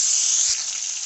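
Tomatoes tipped into hot oil already holding cumin seeds, dried chillies, bay leaves and fried lentil dumplings for a potato curry, giving a steady, loud, close sizzle that barely changes for about a second.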